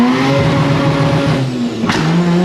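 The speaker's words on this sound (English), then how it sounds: "I got flash shifting." Rotary engine in a Datsun revving hard with flash shifting: a loud, close buzzing engine note holds high, drops briefly at a quick shift, then climbs again.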